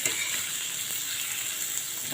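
A spice mix of cumin, turmeric, chilli and masalas fries and is stirred in a pan for papad curry. A continuous close sizzle runs with a faint scrape of mixing, steady and unbroken with no voices.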